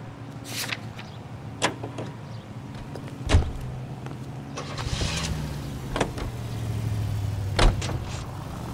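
A car in the video game L.A. Noire drives along with a steady engine hum, punctuated by several sharp thuds and clunks over the course of the ride, plus a low engine swell near the end.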